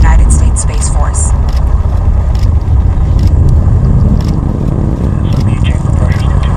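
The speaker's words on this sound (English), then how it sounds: "And liftoff of the United Launch Alliance Atlas V rocket, carrying Silent Barker NRO 107" Atlas V 551 rocket lifting off carrying the NRO 107 payload, a loud, sustained broadband roar with deep rumble that fills the whole stretch without letup, crackling faintly at the top, while a commentator's voice runs underneath.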